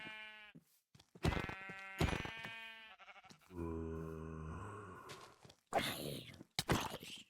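Minecraft sheep bleat several times in wavering, nasal calls amid game sounds, close and fairly loud, with short gaps of other in-game noise between them.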